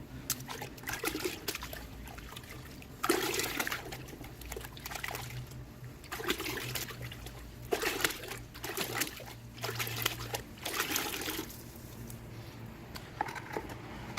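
Water running and splashing over an air filter during a rinse, a continuous trickling, pattering stream with uneven splashes, fairly faint and steady throughout.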